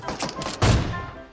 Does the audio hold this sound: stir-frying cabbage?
no